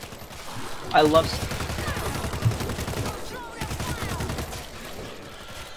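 Shotgun blasts from a double-barreled shotgun in the zombie shooter World War Z, sharp bursts standing out over a busy game mix while players talk over the action.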